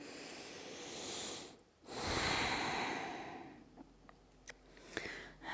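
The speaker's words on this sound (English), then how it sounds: "Let's take 2 more breaths here." Slow, deep breaths during a hip-focused yoga flow: a long, hissing inhale-exhale, a short pause, then another long breath, close and soft, with faint small clicks and rustles near the end.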